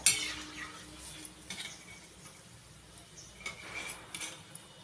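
Karanji, a sweet Diwali snack, deep-fried in oil and turned over, heard as a faint, soft bubbling with occasional light scrapes and metallic clinks of a utensil, quiet and with no voices.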